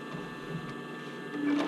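A sewing machine stitches swimwear fabric while attaching a band to a bra-cup swim top, making a faint, steady mechanical whir that grows slightly louder near the end.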